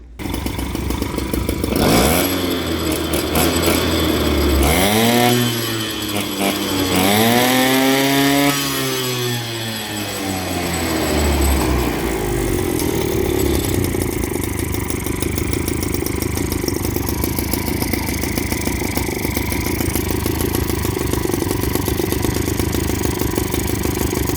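A Motobecane moped engine sputters and catches, revs up and down a few times with rising and falling whine, then settles into a loud steady idle.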